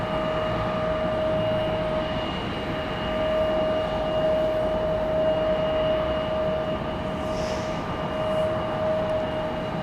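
An Embraer E175 regional jet at Raleigh-Durham airport, a steady engine roar with a sustained whine holding throughout, fairly close and loud, with no voices.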